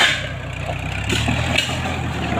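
A farm tractor engine runs at a steady low idle on dry farmland, a continuous close rumble with a slight rise in revs partway through.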